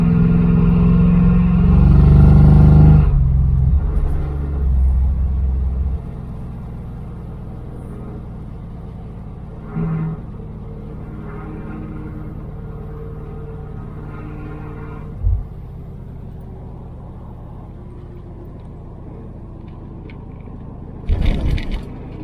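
A 1978 Dodge Aspen R/T engine rumbles loudly under acceleration, then drops to a low steady drone while driving in second gear, with a few brief knocks and a rattling thump near the end.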